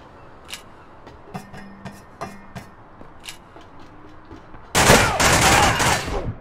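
Gunfire in the online shooter APB Reloaded, a few scattered shots early on and then a loud sustained burst of rapid fire near the end, with no talking.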